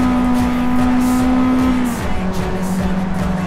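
A Toyota AE86 race car in Forza Motorsport screams at high revs on a full circuit, a loud, close engine note that holds, drops with a gear change, then climbs again.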